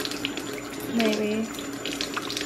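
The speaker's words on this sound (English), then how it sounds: "put water in this tablespoon" Water runs from a tap into a tablespoon at a kitchen sink, a steady close splash that swells briefly in the middle of a short burst.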